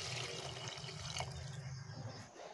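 Water is poured into a pot of simmering meat, giving a steady, soft rush of liquid against the cooking sizzle. It sounds close but fairly quiet, and nobody speaks.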